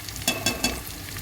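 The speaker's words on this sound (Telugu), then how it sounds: "ఇదిగోండి, ఇలా తిప్పేసుకొని వేగిన తర్వాత కారం చల్లుకోవచ్చండి." Eggs fry in a pan with a continuous sizzle while a spatula flips them, giving three quick scraping strokes in the first half before the hiss carries on alone.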